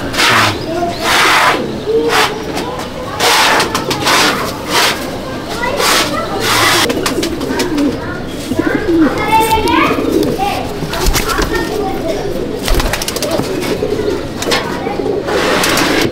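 Pigeons coo softly in a pigeon loft of black-grained birds, including a female, amid rustling, fluttering and a busy backdrop where children's voices and nearby talk are heard throughout.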